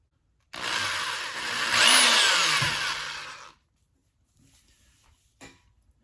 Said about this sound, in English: take the 3/32 drill bit and drill a hole right in the middle